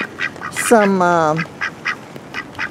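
Duck slippers give one drawn-out, squeaky quack as someone walks in them, with speech close by before and after.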